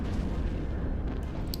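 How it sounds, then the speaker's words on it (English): Spaceship weapons fire in an EVE Online mass battle on the test server, a heavy, continuous low rumble of overlapping booms and bursts, loud and close, with a couple of sharp high crackles near the end. "And what is he firing at?"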